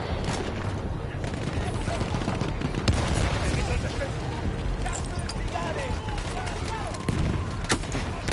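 Weapon fire in Battlefield 1 with heavy recoil, a dense, continuous battlefield din of overlapping shots and booms under game voices, with a few sharper reports standing out near three and seven seconds.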